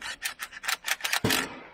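Bolts are tightened while a motor mount is assembled, giving a quick run of about eight rhythmic ratcheting rasps, close and fairly quiet, ending in a duller knock.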